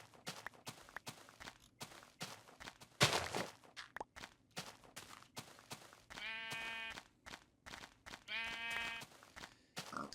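Sheep bleating in the Minecraft video game, two clear bleats about two seconds apart amid rapid footstep clicks and other game sounds.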